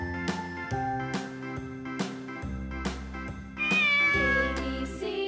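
A cat meows several times in clear, tonal calls, close and fairly loud, with short pauses between each meow.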